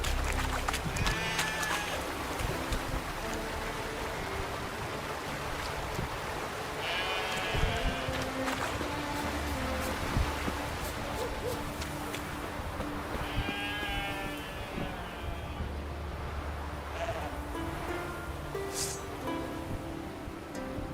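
Sheep bleat in The Witcher 3 game, several wavering cries at a middle distance over a steady rustling outdoor ambience, loud and constant.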